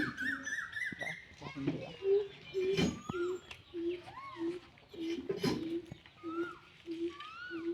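Pigeons coo in a repeated low, rolling rhythm at close range, mixed with a few other bird calls and occasional background voices, as they are fed water and paddy.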